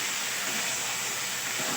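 Spice paste fries in a pan with a splash of water for a fish curry, giving a loud, steady, unbroken hiss with no talking.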